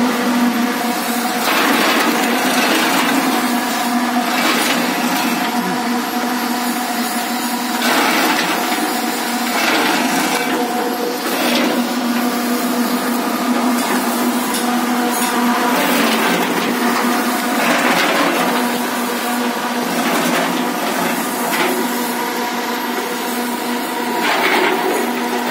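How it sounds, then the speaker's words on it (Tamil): A motorized grinding machine for farm use runs steadily and loudly throughout, with a constant tonal hum and recurring rougher grinding surges. No voices are heard. "இதுக்குள்ள அரைச்சி மோட்டார் மாட்டிருக்கு."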